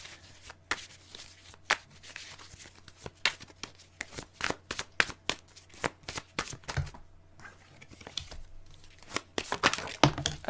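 Tarot cards shuffled by hand during a reading, a quick run of crisp riffling snaps and papery flutters in irregular bursts, close and fairly quiet, with a short pause midway before the shuffling picks up again.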